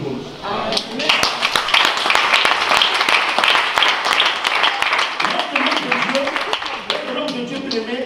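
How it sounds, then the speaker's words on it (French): Church congregation claps during a French-language fasting service, uneven rhythmic applause with sharp individual claps, mixed with voices talking over it. "Est-ce qu'on peut applaudir pour nous?"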